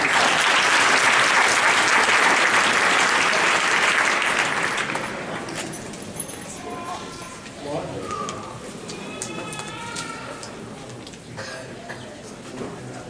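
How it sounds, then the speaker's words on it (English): A graduation audience at a winter multicultural ceremony at Eastern Michigan University gives loud, sustained applause that eases after a few seconds into scattered clapping, with bird coos and murmuring voices in the background. "Can we have a round of applause for them?"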